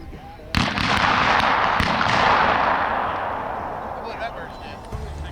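Shotgun blasts ring out at an annual Shriners pheasant hunt outdoors: two loud, sharp reports about a second apart, followed by a long rushing roar that slowly fades, and a softer thump near the end.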